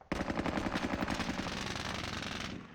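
Rapid sustained machine-gun and rifle bursts, loud and dense and continuing for nearly three seconds in the Squad Battles war video game, with no voices over them.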